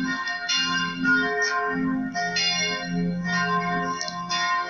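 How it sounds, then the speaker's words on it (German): Church bells ring continuously, overlapping tolls blending into a rich, sustained peal with no voices. "jetzt läuten die Glocken"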